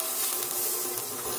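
Garlic sizzles in a hot pan while cooking a Filipino pork and bitter melon soup, a continuous close crackling hiss with no voices over it.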